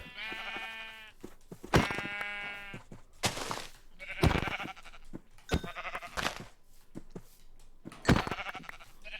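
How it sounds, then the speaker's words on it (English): Sheep in the Minecraft Create mod give a series of loud, buzzy bleats, about six calls spaced a second or so apart over quiet background. "me just come here and kill 3 of these sheep"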